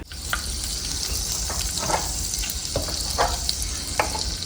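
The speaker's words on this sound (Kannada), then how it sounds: "ಈಗ ಇದಕ್ಕೆ ಒಂದು 2 ಸ್ಪೂನ್ ಎಣ್ಣೆ ಹಾಕಂತಿದ್ದೀನಿ" Oil sizzles and crackles steadily as it heats in a clay pot on a stove, with soft scrapes of stirring popping up now and then. The sizzle is close and even, with no talking.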